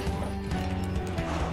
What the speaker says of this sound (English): It's a nice stallion.